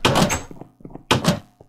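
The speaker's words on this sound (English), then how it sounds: "this guy's having fun with the door" A Minecraft villager bangs a wooden door open and shut in-game, two loud close thunks with a few lighter knocks between them.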